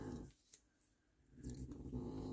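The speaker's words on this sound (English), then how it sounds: "my dog is behind me and she is snoring." An elderly Beagle-Basset mix snores close by indoors, slow rasping breaths fading in and out, quiet and alone with no talk.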